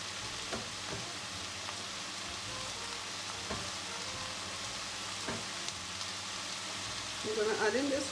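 Garlic frying with ground beef in a hot pan, a quiet steady sizzle with occasional stirring clicks, and a brief louder burst of crackling near the end.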